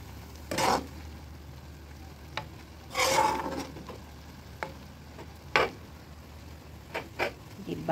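A vegetable and shrimp spring roll filling is stirred in a pan over a soft sizzle, with several distinct scraping strokes at irregular intervals.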